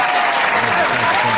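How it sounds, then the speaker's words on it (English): Steady applause from a crowd at a live talk show, loud and continuous for the whole moment with faint cheering voices mixed in. "Let's give him a round of applause up here"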